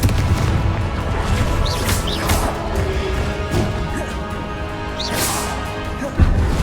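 Spell blasts from the Confringo fire charm in the Hogwarts Legacy PC game, a series of loud whooshing impacts and crashes bursting over a constant rumbling backdrop of combat effects.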